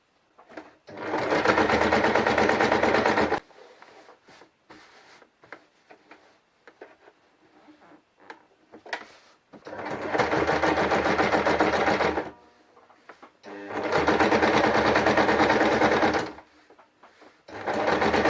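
A sewing machine stitches a decorative cushion in three long, loud, steady runs, separated by quiet pauses with faint handling clicks.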